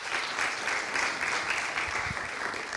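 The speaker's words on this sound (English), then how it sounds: "Okay, so give them a round of applause." Audience applause after a team presentation at a final challenge event: a dense, steady wash of many hands clapping, fairly faint and distant, continuing throughout without talk.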